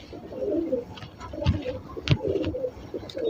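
Pet pigeons coo in a close series of soft, throaty, rolling calls. Faint background noise sits beneath.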